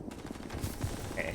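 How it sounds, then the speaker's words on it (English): A94 gun firing in the video game Starfield, heard as a brief burst of rapid shots over a continuous noisy background, with no voices. "Next we're gonna try the A94 type. Yeah, this gun's really good."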